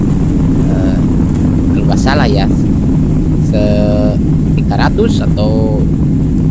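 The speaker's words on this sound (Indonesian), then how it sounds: "Ini alhamdulillah sudah bisa take off dengan mulus" A passenger airliner takes off from Jeddah airport, heard from inside the cabin as a loud, steady engine and airflow roar with rumbling vibration, continuous throughout while someone talks over it.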